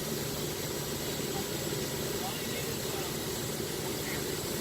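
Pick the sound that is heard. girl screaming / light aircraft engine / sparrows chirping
light aircraft engine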